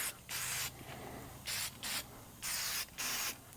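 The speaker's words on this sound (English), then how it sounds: "I'll just treat those with rust converter and stop them from leaking" Rust converter sprays onto truck engine parts from a 1989 Freightliner cabover in a series of close, short aerosol hisses, several bursts of about half a second with brief gaps between them.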